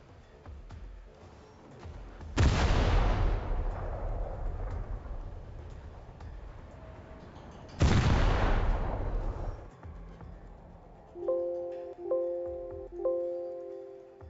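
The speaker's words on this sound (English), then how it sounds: "Turn that gunfire noise down." Heavy naval guns firing in War Thunder, two huge booming salvos that roar and rumble away over several seconds each, followed by a few quieter thuds mixed with a repeating tonal beeping.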